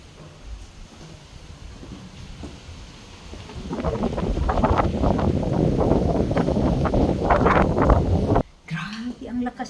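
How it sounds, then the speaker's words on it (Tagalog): Strong wind gusts buffet the microphone outdoors, building into a loud, rough rumble that rises and falls before cutting off abruptly near the end. "Grabe ang lakas ng hangin."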